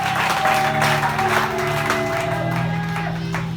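A church congregation at a charismatic Sunday service bursts into sustained applause and cheering for the Lord, a dense, steady wash of clapping with scattered shouts and whoops, loud and continuous throughout, with musical tones and voices mixed in.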